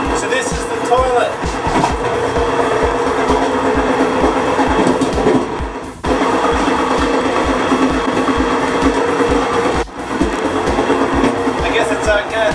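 Loud, continuous rattle and rumble of an overnight train to Chiang Mai, Thailand, with rhythmic clacking over the rails, briefly dipping twice.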